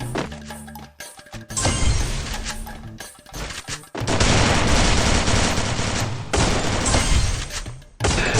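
Gunfire in a mobile shooting video game, loud, dense bursts of shots and impacts that fill most of the clip, with brief gaps between volleys.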